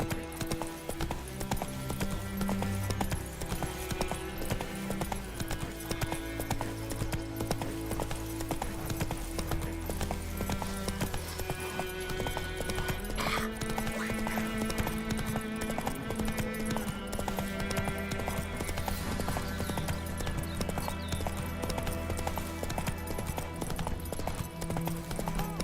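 Roach, Geralt's horse in The Witcher 3: Wild Hunt, gallops with steady rhythmic hoofbeats throughout, loud and close over a game music bed.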